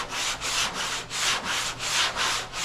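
Steady rhythmic rubbing of sandpaper over black epoxy primer, back-and-forth strokes about every half second, close and moderately loud, with no talking.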